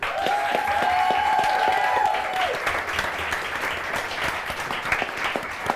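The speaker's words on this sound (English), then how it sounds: "applause for our guardians" An audience at a live tabletop roleplaying show claps for the guardians: dense, loud, sustained applause from many hands, with a brief whistle-like tone early on, steady throughout.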